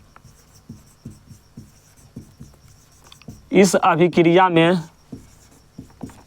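Chalk taps and scratches on a classroom board during a chemistry lesson, a steady series of short, regular strokes, briefly covered mid-way by a spoken phrase before the tapping resumes alone.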